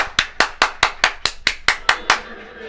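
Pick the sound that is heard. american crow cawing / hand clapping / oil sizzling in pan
hand clapping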